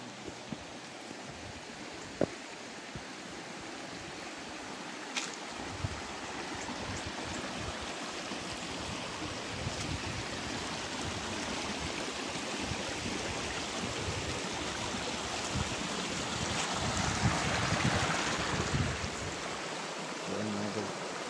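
A forest stream flows with a soft, continuous babble, faint and steady throughout, with a few light knocks and rustles nearby.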